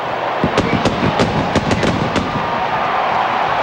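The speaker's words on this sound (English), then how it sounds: "Oh, the fireworks." Fireworks go off at a college football stadium during a 2000 Big East game between Virginia Tech and West Virginia, a rapid run of loud, sharp bangs and crackles over a constant crowd roar that then fades to a steady hum.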